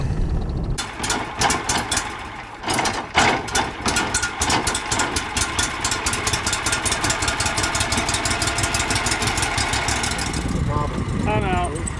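Four-wheel-drive vehicle engine running steadily at a riverside boat ramp, a continuous rumble with rhythmic knocking pulses, loud and close, with people talking over it.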